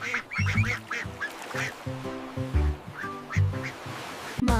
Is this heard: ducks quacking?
yes